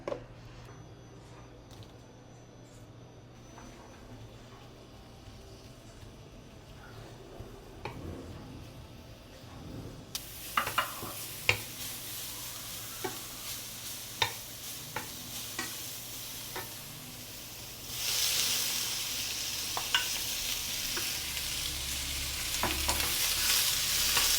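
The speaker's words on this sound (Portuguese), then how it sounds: "eu vou grelhar esse alho poró na manteiga" Leek grilling in butter in a pan, a continuous sizzle with occasional tapping and stirring clicks, growing louder and hissier toward the end.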